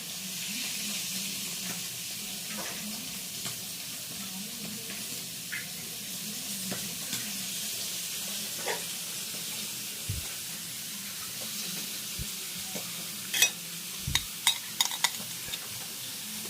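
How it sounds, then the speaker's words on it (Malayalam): Water heating in a pot to steam Kerala chiratta puttu in a coconut-shell mould, giving a steady close hiss and faint bubbling with a few sharp clinks and knocks near the end, no voices. "നമ്മുടെ പുട്ടുണ്ടാക്കാനുള്ള വെള്ളം തിളച്ച് ആവി വന്നിട്ടുണ്ട്"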